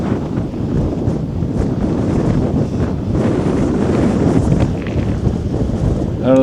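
Strong breeze at a wind farm near Ansons Bay, buffeting the microphone with a steady, loud roar and rumble that continues unbroken throughout, with no voices.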